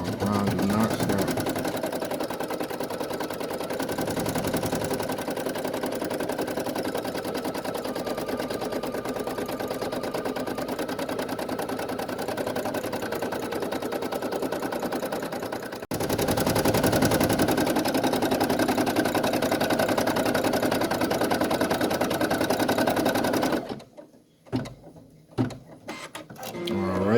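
A Brother PE800 embroidery machine stitches a design with a steady, loud mechanical whir and hum that runs continuously, briefly changes pitch partway through, then stops near the end, leaving a few faint knocks.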